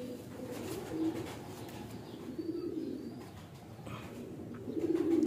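Soft, low pigeon coos roll on steadily through a muffled background hum, with a few faint chirps mixed in.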